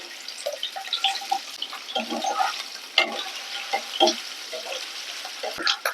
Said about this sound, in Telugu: నూనె వేడయ్యాక ముందుగా శుభ్రం చేసి పెట్టుకున్న నెత్తాలని వేయించుకోవాలి